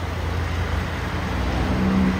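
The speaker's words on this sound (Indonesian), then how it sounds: "Dari atas ada bus" A bus coming down a hill on a road, a steady low engine rumble and road noise with a faint rising drone near the end, heard without talking.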